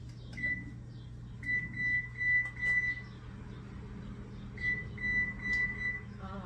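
An oven control panel chirps out a run of short high electronic beeps in two bursts while being set to 400 degrees, close and clear over a low hum.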